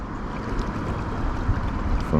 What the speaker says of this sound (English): Makes a change, a little bit of wind. This canal does get windy.